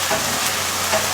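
Mutton mince and onions sizzle steadily in a hot pan over a medium flame, a close, continuous frying hiss with faint stirring.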